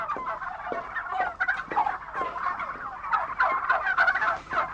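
Turkeys gobble and cluck continuously, several birds calling over one another at moderate volume with no other sounds.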